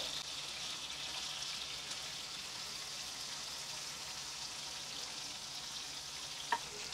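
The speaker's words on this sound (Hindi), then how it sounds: "इस तरह से हम दोनों तरफ से इसे फ्राई कर लेते हैं" Chicken frying in a pan over low flame, a faint, even sizzle and hiss that runs steadily throughout with no talk.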